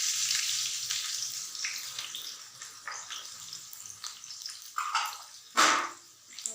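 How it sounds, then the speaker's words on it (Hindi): Onions hit hot oil in a pan for an aloo anday breakfast, a continuous bright hiss of frying with small crackles, rising to a sharp sizzling burst near the end as more goes in and is stirred. "अब हम सबसे पहले यहाँ इसमें प्याज डालेंगे।"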